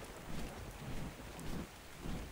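Steady rain with low rumbling thunder inside the video game ARK, a constant wash of noise heard fairly quietly and alone.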